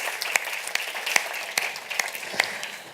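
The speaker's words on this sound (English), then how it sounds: "Let's give her a round of applause." Audience applause for someone speaker, a council member formerly with a department of agriculture, at a Nestlé forum on water, food security and child nutrition: steady crowd clapping with a few sharper claps standing out, fading slightly toward the end.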